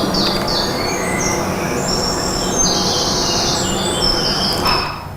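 Many wild birds sing and chirp at once in an outdoor field recording, with overlapping high calls starting and stopping over a steady, rumbling background hiss.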